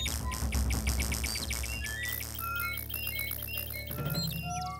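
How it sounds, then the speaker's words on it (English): Jungle bird chirps from the Indiana Jones and the Fate of Atlantis adventure game, quick high tweets scattered over a dense, rhythmic game music bed with plucked tones, moderately loud and continuous. "I can't talk to that bird from here."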